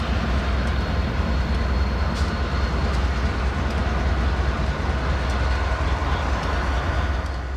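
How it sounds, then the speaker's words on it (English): Connecticut Rail locomotive 4400 passes heading north, a loud, close, continuous rumble with a steady rolling drone of wheels and cars that holds through to the end. "as Connecticut Rail 4400 makes their way north, bound for Windsor and later Springfield"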